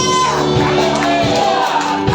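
A church congregation at a Sunday service shouts hallelujah together, a loud, dense crowd roar of voices that stays steady throughout.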